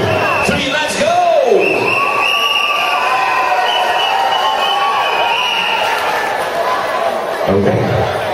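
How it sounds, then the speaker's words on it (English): A crowd at an outdoor dance-a-thon event cheers and shouts loudly together on cue, with whoops and voices layered over a sustained roar that fades out toward the end. "cheer for your team right now"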